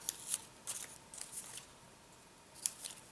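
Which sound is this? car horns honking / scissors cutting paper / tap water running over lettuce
scissors cutting paper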